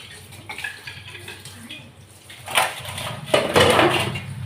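Tap water running in a small kitchen sink while vessels are washed, a faint splashing wash that swells into louder gushing bursts in the second half, close and without talk.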